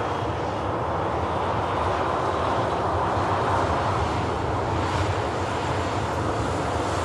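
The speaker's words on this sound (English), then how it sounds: "Here's that EasyJet out to land" An EasyJet airliner coming in to land at Manchester Airport in picking-up wind, giving a constant moderate jet rumble with a faint hiss of wind, no voices.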